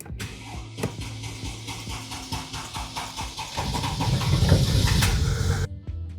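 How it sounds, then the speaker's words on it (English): A Mercedes GL engine runs while the vehicle is driven to warm it up, giving a steady low rumble with scattered clicks and knocks that grows louder and rougher midway before cutting off near the end. No one speaks. "go for a quick drive to warm up the engine"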